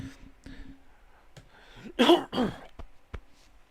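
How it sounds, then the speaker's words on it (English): A couple of sharp, harsh coughs burst out in the middle, surrounded by quieter clicks and faint background noise. "Sorry about the cough."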